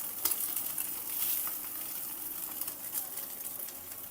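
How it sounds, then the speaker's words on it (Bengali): Egg frying in a hot frying pan gives a steady, faint high crackle and sizzle with small pops throughout, close by and alone. "ডিম ভাজা"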